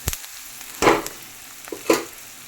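Eggs frying with onion in a pan, a soft steady sizzle broken by three sharp bursts of spatula scraping and stirring, close and alone.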